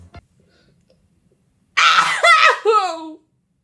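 A single loud sneeze bursts out of near silence, a sharp close-up vocal explosion trailing into a breathy tail after a faint click.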